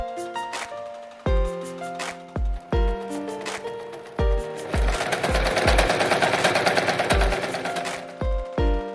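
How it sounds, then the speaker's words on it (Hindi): A sewing machine stitches fabric at stitch length 3 while old clothes are reused, running in quick rattling bursts separated by short pauses, with one longer continuous run in the middle, close and loud. "अभी जो भी सिलाइयाँ मैंने आपको करके दिखाई हैं इस मशीन से"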